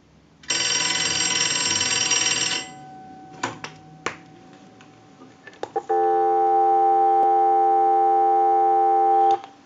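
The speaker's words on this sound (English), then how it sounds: "we'll give you some dial tone." A bell rings briefly, followed by a few clicks and knocks, then a steady, continuous dial tone hums on a Western Electric 233G payphone for several seconds before stopping.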